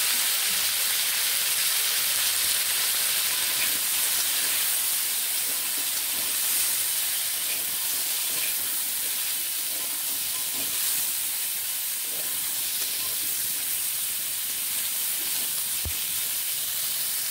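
Cauliflower pieces coated in salt and turmeric fry in hot oil, giving a loud, steady hiss and sizzle that fills the whole stretch close up without letting up, no voices.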